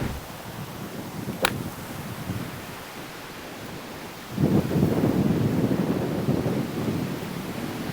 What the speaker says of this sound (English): I don't know if you could hear the wind, but it's been a howler today.